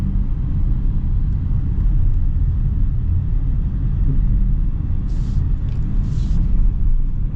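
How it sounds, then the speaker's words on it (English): Steady low road rumble fills the cabin of a 2025 Honda Pilot Black Edition V6 SUV while driving, a constant muffled drone with no talk over it. "it seems like the road noise is not too bad"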